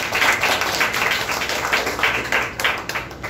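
A crowd claps together at a Telugu business seminar, a dense, steady patter of many hands filling the room for a few seconds without pause.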